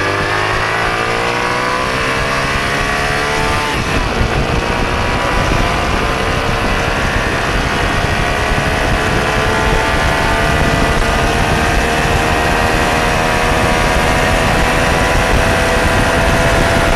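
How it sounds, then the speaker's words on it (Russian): A Suzuki VS400 Intruder motorcycle engine rumbles steadily and loudly up close, rising in pitch as it revs, then holding a strong, continuous drone. "Мотоцикл очень бодрый."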